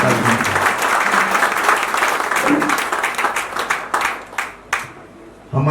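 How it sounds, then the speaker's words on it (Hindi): Applause welcomes a guest at a regional Jain convention in Agra, a loud crowd of clapping hands that thins into scattered claps and fades near the end, then briefly resumes. "एक बार जोरदार तालियों से आपका स्वागत"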